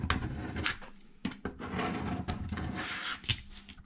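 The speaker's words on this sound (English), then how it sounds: "I'm going to scrape my mat off." Scraping of cut cardstock off a Cricut cutting mat, a close, rough rubbing with short scratchy strokes and brief pauses, no talking.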